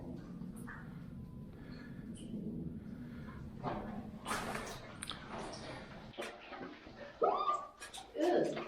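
A dog whimpers and snorts close by in a narrow cave amid rustling and shuffling, with bursts of snuffling near the end over a low background rumble.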